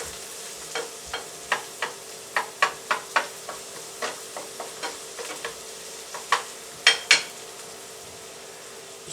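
Onions fry in a pan under a rapid series of distinct scraping and tapping strokes as a spoon stirs them, over a faint steady sizzle.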